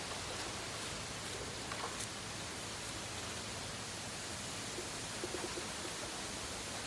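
Strong typhoon wind blowing by a riverbank in Taiwan during fishing, a dense constant broadband roar filling the whole clip with faint gusty rustles and no speech.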